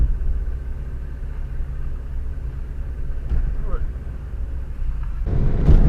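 A car driving, recorded by a Viofo A119 dashcam on the windshield and a GoPro Hero 3+ in a non-waterproof case worn on the head: a steady, loud, low engine and road rumble with a slight rise near the end.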